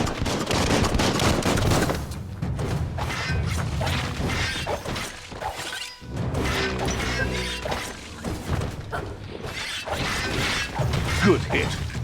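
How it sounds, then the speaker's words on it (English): Dense video game gunfire from Biomutant crackles in steady bursts, with loud rapid shots and impact crashes filling nearly the whole stretch with only brief lulls. "Bullets everywhere."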